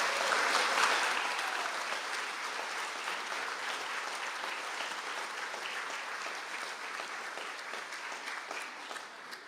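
Applause rings out for Bachelor of Arts Honours graduates in Human Resource Management at a Mayo conferring ceremony, a full, sustained round of clapping from a large hall that fades slightly toward the end.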